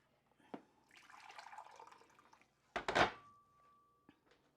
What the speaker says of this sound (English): So just let me pour out some water.